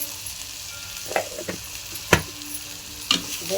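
Spices sautéed with cooked onion and tomato in a hot pan, a steady close sizzle broken by a few sharp stirring scrapes and taps, with no voices.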